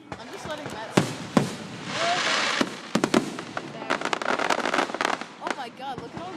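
Fireworks bursting over Lake Wallenpaupack, a series of sharp booms and crackling pops at irregular intervals, some loud and close, with people talking and reacting throughout.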